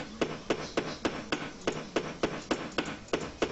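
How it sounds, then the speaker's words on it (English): A looping hammering glitch from the Project Zomboid video game: evenly spaced, sharp knocks repeat about every quarter second, roughly a dozen strikes at moderate volume with no other sound. "Sound bug. Repeat and hammer."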